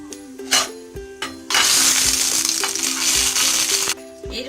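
Dried chillies and mustard seeds hit hot oil while a tomato chutney is being made, giving a loud close sizzle that breaks into steady crackling after a few soft clinks and taps.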